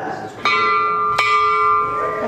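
A bell rung to mark seven o'clock at an evening historical preservation society gathering in the Upper Keys: two clear strikes, each ringing on with a long, sustained metallic tone.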